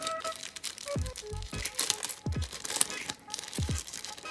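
Small plastic bag from an Xiaomi Mijia portable electric pump kit crinkling as it is handled, a series of faint close rustles and crunches with a few sharper spikes.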